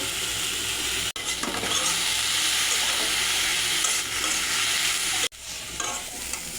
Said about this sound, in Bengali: এখন শাকটা সেদ্ধ করে নেব।